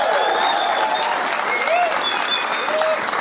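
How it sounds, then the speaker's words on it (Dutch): Audience at a pop music awards show breaking into loud, sustained applause, dense clapping filling the room throughout, with some whistles and cheers rising above it. "Geef ze nog 1 keer een groot applaus."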